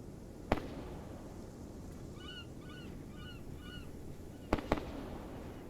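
Gunshots from the naval combat game Sea Power: a single sharp report early on, then a quick pair of shots near the end, over a low, steady ambient bed with faint chirping calls in between.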